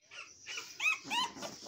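A tiny puppy whimpers softly up close, giving two or three short, high-pitched whines in quick succession.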